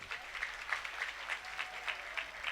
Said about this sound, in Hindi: ताली बजा के आप स्वागत करेंगे।